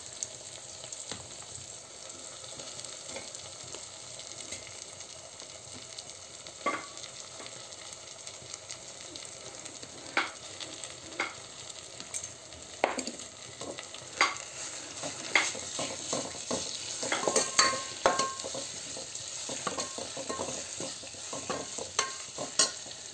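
Ground spice paste fries in oil in a pan for a spicy clam curry, a low steady sizzle punctuated by scattered stirring scrapes and utensil taps that grow busier toward the end.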